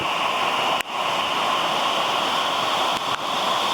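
A waterfall roars steadily close by, its broadband rushing unbroken throughout, with a couple of brief dips in the noise.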